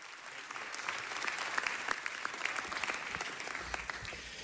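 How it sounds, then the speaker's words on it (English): A city council chamber in Los Angeles applauds the city controller as he is introduced: a faint, even wash of many hands clapping from a distance, sustained for several seconds with no talk over it. "Give Ron a round of applause"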